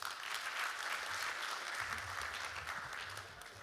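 An audience at a job fair event claps in a steady round of applause, a continuous patter of hands at moderate level that tapers slightly toward the end.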